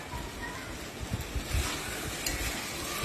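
Puin shak (Malabar spinach) chhenchra being sautéed in a pan, a continuous sizzle with low scraping and knocking of stirring, close and moderately loud with a faint voice in the background.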